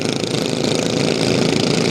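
A loud, rough modified Kubota tractor engine, converted from an ET95 to an RT155, runs steadily up close, a deep throbbing rumble that holds constant throughout.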